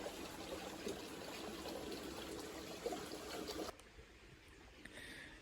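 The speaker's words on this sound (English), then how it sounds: "Water in a tunnel of rhododendrons." Gentle water trickling and babbling in a stream through a tunnel of rhododendrons on the Appalachian Trail, soft and continuous, fading to quieter flow toward the end.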